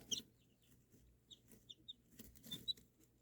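Soft, scattered clucks from chickens, a few short calls close by in a quiet setting.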